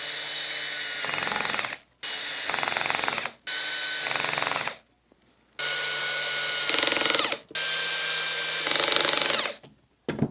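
Power screwdriver tightening screws on a Two Trees 20W laser engraver frame during assembly, several loud whirring bursts of a second or two each, separated by short silent pauses, close up with no talk.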